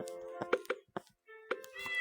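A cat meows in a video game as a few short, clean, tonal cries separated by silent gaps, with faint game sounds around them.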